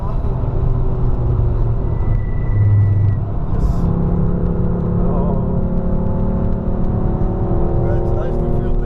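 A Porsche lapping the Nürburgring fast, heard from inside the cabin as a loud, steady engine drone and road roar with shifting pitch as it accelerates, and voices talking over it.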